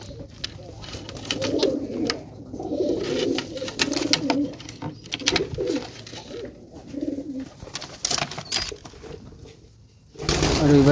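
Sick pigeons, including chicks in poor condition with pox, coo in repeated low throaty bursts close by, with brief rustles between calls and a louder noise at the end.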